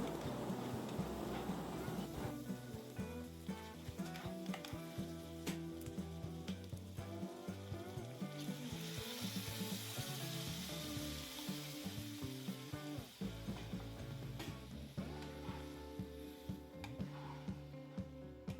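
Boiled greens and lentils go into a crab curry that sizzles loudly, so frying hiss and crackle fill the whole stretch with steady, dense energy. Stirring and scraping sounds come and go on top, and nobody speaks.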